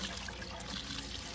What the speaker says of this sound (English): that's how rusty the water's coming out